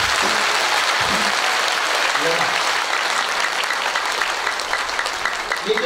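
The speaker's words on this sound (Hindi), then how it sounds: "एक बार ताली बजाओ।" A congregation at a Friday church service claps together in a sustained round of applause, even and full throughout, with a preacher's voice briefly heard over it at a few points.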